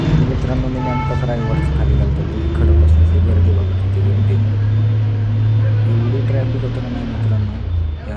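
Busy road traffic rumbles steadily and close, engines droning as vehicles pass continuously, with muffled voices mixed into the din.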